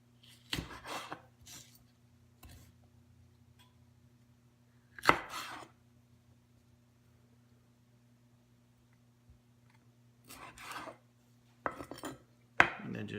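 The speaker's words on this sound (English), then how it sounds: "I'm going to cut this into some strips." A knife cuts baby bell peppers into strips on a board, a few sharp, close chops in small bursts separated by long quiet gaps.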